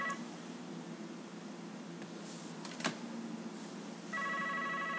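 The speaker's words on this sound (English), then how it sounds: "my phone's ringing" A telephone rings faintly in a quiet room, its tone rising into a steadier electronic chime near the end, with no talking.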